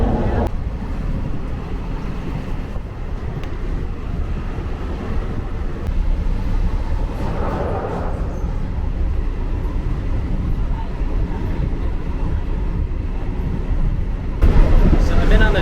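Steady low rumble of a moving train cabin on the cheapest train to Hua Hin, Thailand, broadband and continuous, with faint mechanical rattle and occasional muffled voices in the background.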